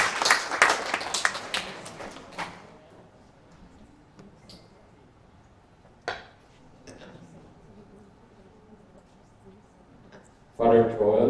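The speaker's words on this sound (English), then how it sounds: "A round of applause for him." Applause from an awards ceremony audience bursts out at the start and fades within a few seconds, with a short clatter later and another burst of clapping at the end.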